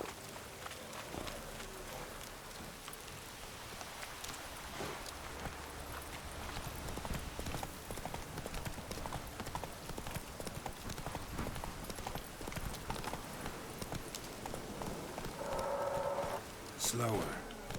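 Horse hooves clip-clop steadily throughout a Witcher 3 game scene, a continuous mid-level trotting rhythm with faint background ambience and brief spoken lines.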